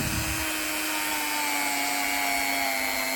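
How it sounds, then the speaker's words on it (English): Rotary tool buffing a pewter model, a steady high-pitched motor whine with a faint rubbing, grinding texture underneath, held constant and close with no talk. "It's not a Dremel, it's a rotary tool,"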